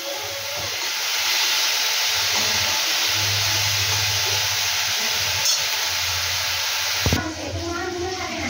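Mustard paste with garlic and chili fries in a pan with a loud, continuous sizzling hiss, ending in a sharp clatter, while a voice talks faintly underneath.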